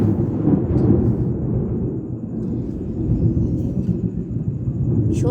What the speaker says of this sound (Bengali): ভীষণ বিদ্যুৎ চমকাচ্ছে, আমাদের এখানে হেভি বৃষ্টি হচ্ছে, খুব বৃষ্টি হচ্ছে।